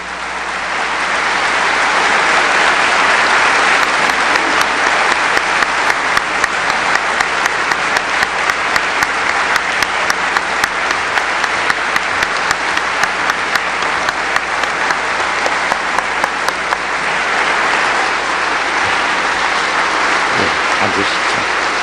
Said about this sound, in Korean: 뜨거운 박수로 대통령님을 다시 무대로 모시겠습니다.